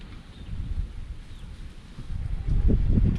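Gusting wind buffets the microphone with a low, rumbling roar that swells and strengthens toward the end.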